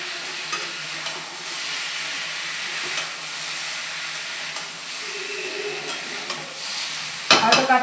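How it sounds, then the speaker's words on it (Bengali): Vegetables fry in a pan with a paste of ginger, green chili, cumin and coriander, giving a steady close sizzle and hiss throughout. Stirring scrapes come and go, and a brief louder clatter sounds near the end. "সবজিটা ভাজা হয়ে গেছে। এর মধ্যে দিয়ে দেবো মশলা বাটা।"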